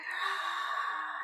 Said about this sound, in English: just breathing in